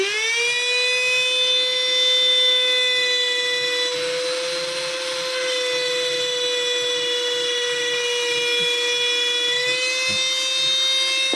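An INGCO 130W mini rotary die grinder running at speed setting 6, a steady high-pitched electric whine held close and loud throughout with a slight dip in pitch midway.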